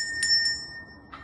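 A small bell, set out as a musical instrument for singing Jingle Bells, rings in bright, short metallic dings, with two quick strikes close together and a third after a pause, clear and near.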